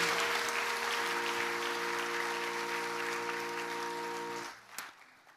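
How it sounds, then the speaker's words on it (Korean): A church congregation at a Sunday service claps to bless a new baby: steady, even applause over a sustained tonal hum, which stops abruptly near the end and leaves quiet. "우리 새 생명 박수로 축복하시겠습니다."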